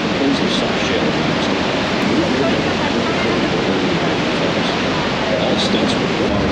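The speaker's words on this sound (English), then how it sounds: "The Canadian side of Niagara Falls, with the highest flow rate and natural beauty, located between Rhode Island and Table Rock, is known as the Horseshoe Falls." Roar of Horseshoe Falls on the Canadian side of Niagara Falls, a loud, steady, dense rush of falling water that fills the whole span without pause.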